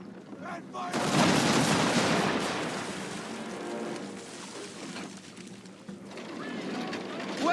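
Naval cannons fire a broadside in Assassin's Creed 3, a loud rumbling barrage of booms that swells after the first second and slowly fades, with a voice speaking over the tail end.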